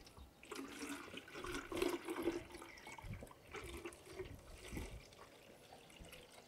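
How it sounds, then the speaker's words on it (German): Water is poured into a container already holding liquid fertilizer in a vegetable garden, making a steady splashing, gurgling pour that rises and falls for several seconds at close range. "Und dann gieße ich Wasser rein."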